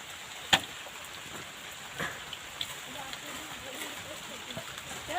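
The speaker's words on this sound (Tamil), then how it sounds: "மழை வந்துருச்சு." Rain falls outdoors on a hillside as a steady, soft hiss, with a few sharper drops landing nearby.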